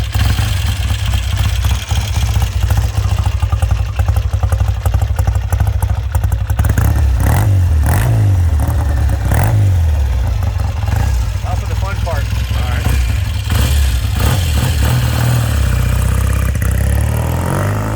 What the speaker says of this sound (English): First kick, idles beautifully.